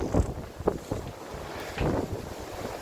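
Strong night wind buffets the microphone around boats moored in the harbour at Varazze, with loud gusty rumbles, rushing bursts and a hiss of water, no voices.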